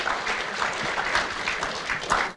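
An audience at a Dublin jubilee celebration of postgraduate studies in applied spirituality claps for an 80-year-old graduate, a short burst of close, brisk applause that cuts off sharply at the end.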